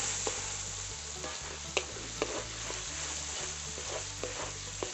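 Ground spice paste with turmeric and salt is sautéed for chicken curry, frying with a constant hissing sizzle, repeated low scraping stirs and a few sharp clicks of the spoon against the pan.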